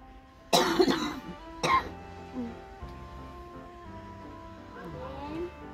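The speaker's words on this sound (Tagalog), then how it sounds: "gahi kayo mong ubo" A man coughs hard twice, two loud harsh bursts close to the mic, followed by quieter throat sounds and faint background voices.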